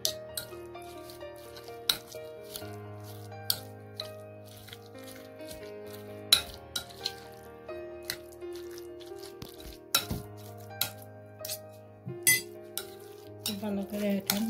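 Spoon scraping and clinking against a bowl while banana pepper stuffing is mixed, a steady series of close, sharp taps over a quiet background hum.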